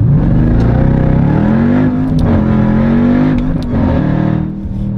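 Jeep Grand Cherokee Trackhawk, a 710 hp SUV with a torque-converter automatic, launching hard: a loud, sustained engine roar climbs steadily in pitch and holds near the limiter, with brief shift-like breaks, and no talking.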